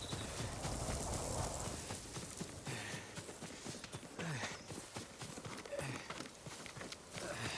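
A horse in the Ghost of Tsushima video game walks with a soft, irregular clip-clop of hooves, quiet and close against a faint outdoor ambience.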